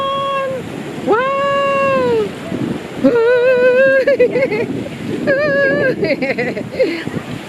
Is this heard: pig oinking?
no